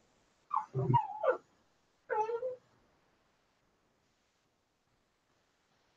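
A dog gives two short whimpering yips, the first a little longer and more broken than the second, close and fairly clear, followed by several seconds of near silence.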